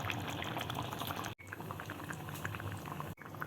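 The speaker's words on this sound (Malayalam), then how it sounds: "നന്നായി തിളച്ചിട്ടുണ്ട്" Egg roast curry boils in a pot with steady, dense bubbling and popping, close and fairly quiet, broken by two brief sudden cuts.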